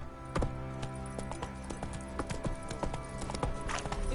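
Hooves of the horse Roach in The Witcher trot steadily over ground, a crisp, regular clip-clop beating through the whole stretch over a dense game soundscape of music and ambience, with a soft voice heard briefly.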